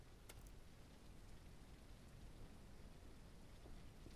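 Steady rain in the farming game Ranch Simulator, a dense, even hiss of falling drops heard alone at low volume throughout, with no voices.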